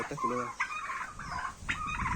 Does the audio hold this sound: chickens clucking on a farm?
yes